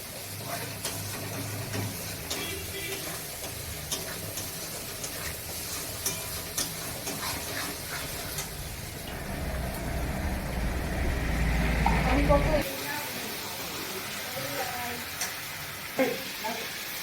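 Meat with spices sizzles in a pan as it is stirred, a soft close frying hiss with occasional scraping clicks and a low rumble swelling midway before cutting off.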